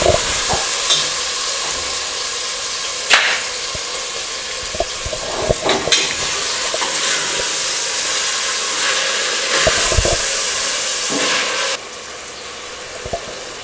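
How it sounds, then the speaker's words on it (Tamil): Chopped tomatoes stirred into onions frying for mushroom biryani hiss and sizzle steadily up close, with scraping and clinks of the spoon against the pan and no talking. "வெங்காயத்தில் தக்காளி சேர்த்துறோம். அடிப்பிடிக்காத அளவுக்கு நல்லா கிண்டி விடணும்."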